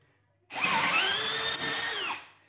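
A power drill whines at high speed for about a second and a half as it bores an 8.5 mm hole into the belt tensioner bolt of an Opel Astra H 1.4 16v, starting abruptly and winding down at the end.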